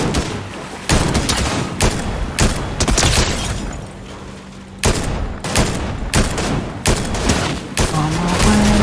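Gunfire in the video game Fortnite: rapid repeated shots in loud bursts, some close and sharp, others trailing off, continuing throughout with brief pauses.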